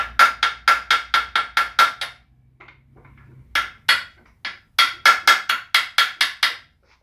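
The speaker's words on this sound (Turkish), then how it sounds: "yataklarımızı çekiç yardımıyla sökeceğiz" Rapid bursts of sharp metallic hammer strikes, close and loud, knocking out bicycle headset bearings in quick rhythmic runs separated by a short pause, with no talking.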